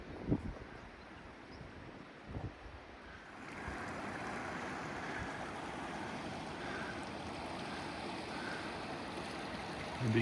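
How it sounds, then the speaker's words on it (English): A river in flood rushes steadily below a bushwalking trail, a dense, fairly faint continuous roar that swells after a few seconds and holds, with light wind noise. "the river, which is just down there, which is in some kind of flood at the moment"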